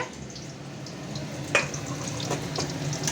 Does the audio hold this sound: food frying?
yes